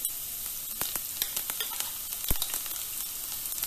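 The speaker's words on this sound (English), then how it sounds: "Let it heat up. In goes the chopped garlic." Chopped garlic sizzling in about three tablespoons of hot extra virgin olive oil in a pan, a steady close crackle with scattered sharp pops and no voices.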